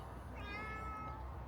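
A house cat gives a single drawn-out meow, close and clear over a steady low background hum.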